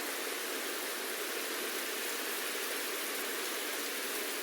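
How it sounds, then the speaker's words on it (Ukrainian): Steady rain in the video game Bramble: The Mountain King, a dense, even hiss of falling water that stays loud and unbroken throughout, with no voices. "Ні, ну що дощик то класно."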